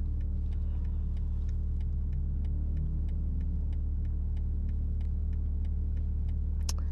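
A BMW G80 M3 tuned with a RaceChip GTS Black module running in race mode, heard from inside as a loud, steady low engine drone and road rumble, with a faint regular ticking running throughout and no talking.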